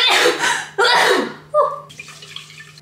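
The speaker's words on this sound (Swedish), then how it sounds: "skölj riset noga i kallt vatten" Sushi rice being rinsed in cold water at home, with splashing and sloshing bursts followed by softer trickles and drips close by.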